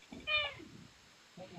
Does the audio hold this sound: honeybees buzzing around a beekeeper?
no